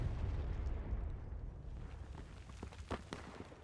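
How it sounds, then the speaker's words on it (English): A close artillery shot booms during a 150-player Civil War battle game, one heavy low blast amid rumbling battlefield noise, with sharp crackling reports trailing near the end. "Close artillery shot."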